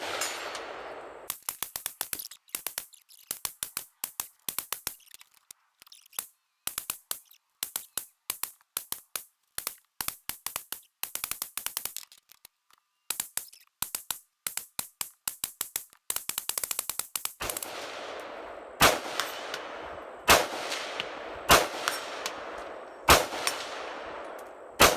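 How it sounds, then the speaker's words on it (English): A PSA M4 rifle fires at a spinning steel plate outdoors, sharp shots coming singly and in quick strings, each followed by a metallic clang or ring from the plate, with brief pauses between volleys. "Kind of fun shooting a spinning plate."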